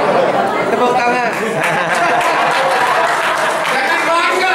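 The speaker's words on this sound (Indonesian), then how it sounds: "Tepuk tangan." Audience applause and clapping at a religious talk, a steady dense wash of hands with murmuring crowd chatter mixed in throughout.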